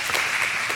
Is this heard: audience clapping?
yes